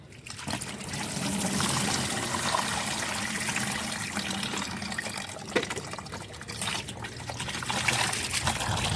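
Continuous trickling and dribbling water as vegetable-scrap soak water pours steadily through a strainer at close range, with faint handling noises and no talk.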